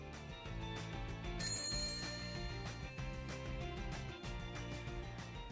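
A bright classroom attention bell rings repeatedly in a quick, steady pattern, clear and fairly close, with no talking.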